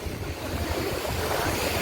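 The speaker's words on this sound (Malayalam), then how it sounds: "ഇവിടെ നല്ല തിരയാണ്, ഇങ്ങോട്ട് നല്ല തിര അടിച്ച് കിടക്കുകയാണ്" Strong sea waves break onto the beach at Kanyakumari, making a loud, continuous rolling roar close by. Gusting wind buffets the microphone throughout.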